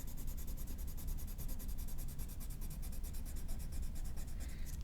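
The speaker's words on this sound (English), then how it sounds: "we're gonna use our pencil, and we're just gonna color over top of" Pencil rubbing back and forth across paper while coloring over an outline, a soft rhythmic scratching of quick repeated strokes, close and quiet throughout.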